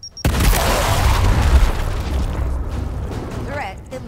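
A frag grenade detonates in Gears Tactics, a loud deep boom followed by a long rumbling decay, with a short voice line near the end.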